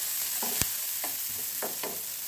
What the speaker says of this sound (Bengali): এবার এই তেলের মধ্যে আমি পেঁয়াজ কুচি, রসুন 4টে এবং লঙ্কা 3টে এর মধ্যে দিয়ে দিলাম।